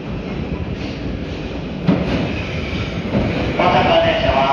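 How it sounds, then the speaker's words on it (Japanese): A train pulls into a Japanese station platform at Kanayama, Nagoya, a steady rolling rumble rising slightly as it arrives, with faint squealing wheels, under a public-address announcement voice. "まもなく2番線に電車が参ります。"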